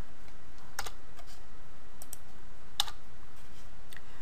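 Sparse keystrokes on a computer keyboard while entering network settings, a few light isolated clicks spread out at an unhurried pace against a quiet background hiss.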